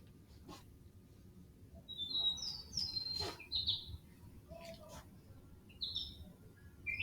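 Birds chirping outdoors in nature: scattered high, thin tweets and short calls come and go over a steady low rumble of background noise, fairly faint and fairly distant.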